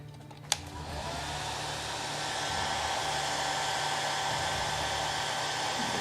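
A hair dryer drying model armor weathering blows with a steady, close-up whoosh and whine after a brief click, running continuously without any talk.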